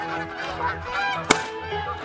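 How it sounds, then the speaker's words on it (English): A goose in the hunting game Call of the Wild gives a single loud, close honk as it flies in, with a soft ambient bed around it and a sharp game sound in the middle. "We got a big boy goose coming in."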